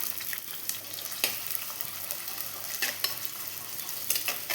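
Steady sizzling of chopped onion frying in hot oil for Tamil fish curry, with occasional stirring scrapes, close and moderately quiet.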